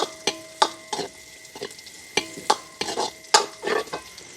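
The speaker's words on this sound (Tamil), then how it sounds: "இப்போ நாங்கள் இந்த நெய்க்கு வந்து ப்ளம்ஸை போடுவோம் அப்படியே நல்ல வடிவாக பொரிஞ்சு வந்து வரும் பாருங்க" Plums frying in melted ghee in a pan, stirred with quick scraping strokes that come in a brisk, uneven series of about a dozen close, sharp bursts over a soft crackle.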